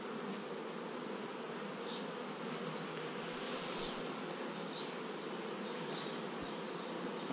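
Honey bees swarming around an open hive during an inspection, a dense, continuous buzzing close by, with individual bees zipping past now and then and no talking.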